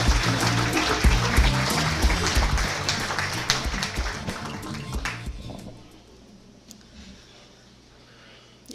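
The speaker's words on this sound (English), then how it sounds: "if you can just a round of applause for Adrienne and welcome her up to the stage" An audience claps to welcome a speaker, Adrienne Pennington, onto a Pecha Kucha stage. Dense, fairly loud applause lasts about five seconds, then fades to quiet room tone.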